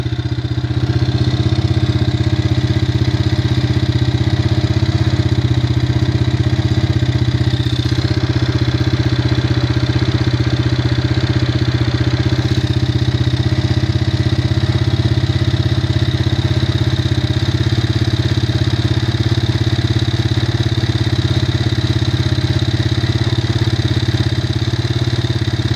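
A 1985 Honda Big Red ATV engine idles steadily on a 20°F cold start, a loud, continuous low-pitched putter with mechanical clatter, close and uninterrupted.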